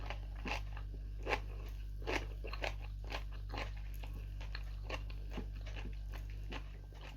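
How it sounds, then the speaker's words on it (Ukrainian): Crunchy pastry made from bran is chewed close up, with repeated crisp bites and crunches in a steady rhythm over a low background hum. "Тісто хрумкотить."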